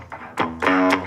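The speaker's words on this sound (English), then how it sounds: "I'm gonna add a distortion effect. I'm just gonna go to crunch guitar." A crunch guitar distortion effect adds a gritty, overdriven edge to short tonal bursts, close and loud, with several choppy attacks and no talking.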